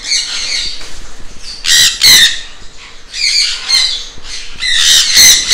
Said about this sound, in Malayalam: പഞ്ചവർണ തത്ത.